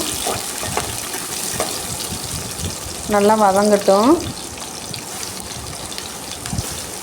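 Onions, green chili and curry leaves sauté in hot oil for a dry fish masala, a steady close sizzle throughout, with a brief tonal whine rising over it midway.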